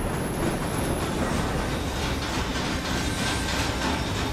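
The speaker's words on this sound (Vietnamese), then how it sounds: "Xe lửa chạy rồi." A train rumbles steadily along its rails with a faint clickety-clack and occasional wheel squeal in the horror game Little Nightmares II, loud and continuous throughout with no voices.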